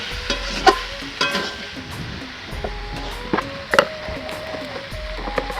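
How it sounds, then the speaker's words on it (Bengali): Potatoes and peas sautéing with spices for ghugni in a pan, with repeated spatula scrapes and stirring knocks over a low, steady sizzle; no voices. "আর এই আলু আর মটরটাকে মশলার সাথে অনেকক্ষণ ধরে কষে নিতে হবে"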